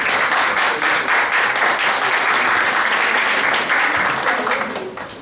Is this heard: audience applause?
yes